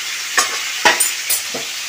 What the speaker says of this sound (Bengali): সবজিটাকে একটু তেল দিয়ে ভালো করে ভেজে নিচ্ছি সবজিটা